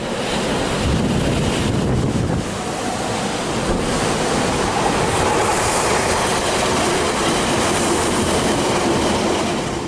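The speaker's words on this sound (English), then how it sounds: "Passengers can watch the waves crashing right outside their carriage windows, sometimes splashing so close it feels like they might hit the glass." Sea surf crashing and roaring beside the coastal railway line at Dawlish on England's south coast, mixed with the rumble of a passing train and wind buffeting the microphone, loud and continuous.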